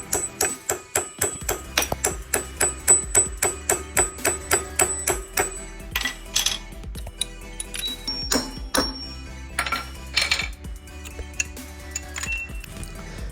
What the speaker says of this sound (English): and then we can hammer in the other side